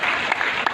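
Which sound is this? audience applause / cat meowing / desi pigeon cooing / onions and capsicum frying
audience applause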